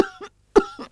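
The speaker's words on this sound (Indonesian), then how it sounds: "Ibu batuk-batuk terus." A sick mother with a cold and flu coughs twice in quick succession, short harsh bursts close by and alone in a quiet room.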